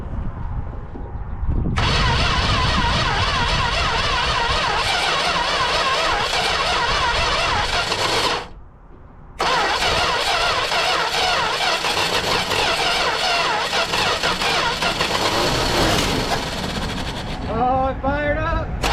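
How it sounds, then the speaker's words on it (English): A 1966 Dodge Dart engine, parked for 25 years, catches and fires up, running loud and rough with a ragged, popping idle that briefly dips near eight seconds and then resumes steadily. "Oh, it fired up!"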